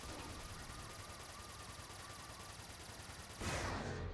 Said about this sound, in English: Wait, who's shooting at me?